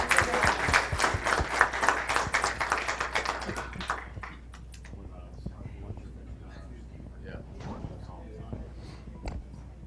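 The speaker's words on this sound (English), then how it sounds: "Please give them a round of applause." An audience at a county board of commissioners meeting breaks into a burst of applause that fades after about four seconds, followed by scattered claps, murmurs and quiet talk.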